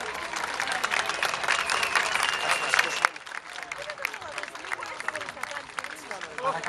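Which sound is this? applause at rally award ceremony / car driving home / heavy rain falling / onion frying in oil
applause at rally award ceremony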